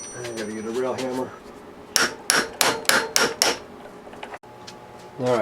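A series of sharp metallic hammer blows on parts of a 1953 Briggs & Stratton 5S engine, about seven evenly spaced strikes, close and loud, with a person talking before and after.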